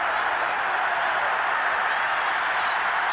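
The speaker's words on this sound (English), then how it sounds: "We're going to give out a little applause on that play." A stadium crowd in the Madden NFL 22 football video game, Panthers against Raiders on Xbox Series X, applauds after an incomplete pass: a dense, even wash of clapping that holds steady and loud throughout.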